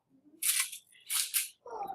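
A film camera shutter fires with its lens cap removed, two sharp crisp mechanical clicks about a second apart, followed by a softer lower clunk, close and alone in a quiet room.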